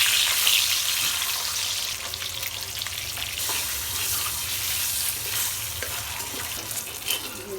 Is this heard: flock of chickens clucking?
no